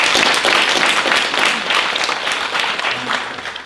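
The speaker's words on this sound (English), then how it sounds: "Just a round of applause for Nicholas." An audience at the CILIPS23 AGM applauds award recipient Nicholas Herbert of Robert Gordon University, a steady, full round of clapping that tapers slightly toward the end.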